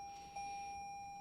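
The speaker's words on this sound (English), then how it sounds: "Sorry about the chimes." A 2023 Toyota Sienna sounds a quiet interior warning chime: a faint steady tone with a brief soft ding near the start.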